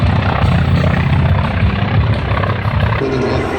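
A warbird aircraft engine roars loud and steady during a low strafing pass over an airshow infield, with a broadband rumble that shifts slightly toward the end.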